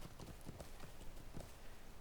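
Horse hooves clip-clop in a video game, an irregular run of soft, close hoof strikes over a quiet ambient bed, with no talking.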